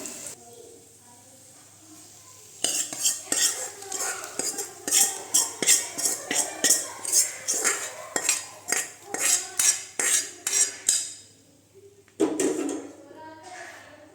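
A metal spoon mixes a fried onion tempering into cooked rice for curd rice, making quick rhythmic clinks and scrapes against the vessel for several seconds, then one louder clatter near the end.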